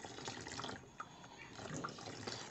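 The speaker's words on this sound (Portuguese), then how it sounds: "vamos tá colocando aos pouquinhos o nosso álcool" Alcohol is poured into a homemade soap mixture in a washing tub, giving a soft, steady trickle with light splashy drips throughout, faint and close, with no voices.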